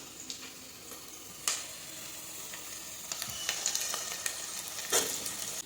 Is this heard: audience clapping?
no